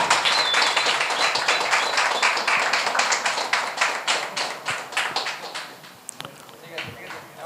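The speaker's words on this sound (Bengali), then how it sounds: "জোরে হাততালি।" Loud, dense applause from an opera troupe's audience, a rapid run of claps that fades toward the end, with voices mixed in.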